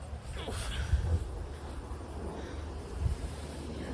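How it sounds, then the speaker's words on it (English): Gusty wind buffets the microphone with low rumbling bursts, steady whooshing throughout, and no clear talk. "It's so windy."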